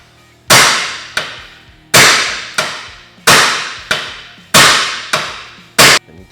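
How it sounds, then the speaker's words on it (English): Loud, sharp metallic hammer strikes ring out in pairs, about nine blows in a steady rhythm, each with a brief ringing decay, one hammer held against the lower A-arm of a Honda Talon 1000R and struck with another. "take one hammer, stick it right here on the lower portion of the A-arm, and then take another and hit it"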